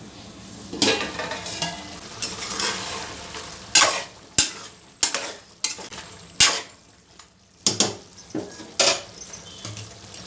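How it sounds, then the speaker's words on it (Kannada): Garlic chicken gravy stirred and frying in a pan, with a steady sizzle broken by repeated sharp scrapes and clinks of a spoon against the metal, close and fairly loud, no talking. "ಗದ್ದ ಚೆನ್ನಾಗಿ ಮಿಕ್ಸ್ ಮಾಡಬೇಕು ಇದೊಂದು ಎರಡು ನಿಮಿಷ ಬೇಯಲಿ"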